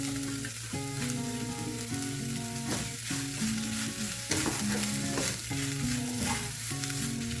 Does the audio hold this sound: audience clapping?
no